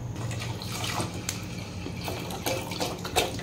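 Water poured onto mung beans in a cooking pot, set to boil with salt in a home kitchen; a steady splashing, trickling pour runs throughout, close and moderately loud.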